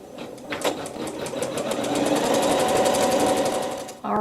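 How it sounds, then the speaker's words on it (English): Embroidery machine sewing a placement stitch outline on a quilt block: a loud, fast, even run of needle clatter and motor whine building in over the first second, holding steady, then cutting off abruptly near the end. "we're going to have the machine stitch a placement stitch so we know where to put our wool batting"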